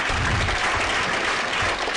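An audience at a school function claps, dense sustained applause from a crowd filling the whole stretch evenly.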